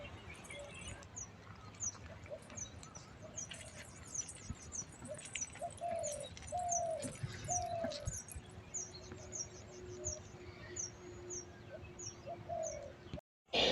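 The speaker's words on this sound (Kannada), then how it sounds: "ತುಂಬ ಪಕ್ಷಿಗಳಿದ್ದಾವೆ" Outdoor summer scene with many birds: a run of short repeated high chirps continues throughout, with softer pigeon coos in the middle and a low background hum.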